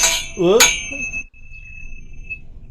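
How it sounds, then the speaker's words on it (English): Tingsha bells: a bright metallic chime rings out and sustains, ringing steadily as it slowly fades over a few seconds, with a brief vocal sound at the start. "So I had tingshas, ooh, that's loud."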